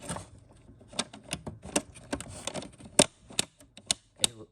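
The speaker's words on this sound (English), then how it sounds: "It makes a little clicky sound to let you know that you've done the right thing." Small, sharp metallic clicks from a puzzle box mechanism striking a metal plate tick out irregularly, faint and close, with quiet handling noise between them and no talking.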